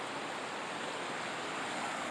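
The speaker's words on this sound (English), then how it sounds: "the water's pretty loud, so I hope you can hear it" Loud, constant water surges and rushes along a northern shoreline, a dense hiss of surf filling the whole stretch with no voices.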